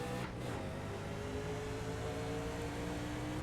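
A race car engine in the Retro 500 qualifying race at Darlington, pulling hard in second gear at the green flag start, a loud steady in-car drone with the engine note climbing as it revs.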